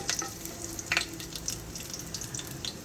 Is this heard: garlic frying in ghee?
yes